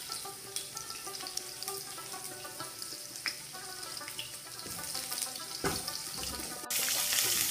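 Chopped onions fry in a little oil in a pan for a Pashto-style capsicum chutney, a steady close sizzle with faint clinks and stirring, growing brighter and louder toward the end.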